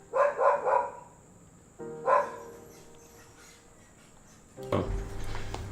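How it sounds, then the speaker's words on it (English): A dog barks several times, a quick burst of three followed by a single bark, then a louder muffled knock or thump, all at moderate distance in a quiet room. "Shut up, dog."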